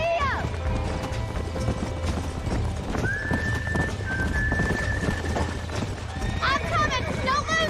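A horse in Red Dead Redemption gallops with steady rhythmic hoofbeats, then lets out loud neighs and whinnies near the end, while people talk over it.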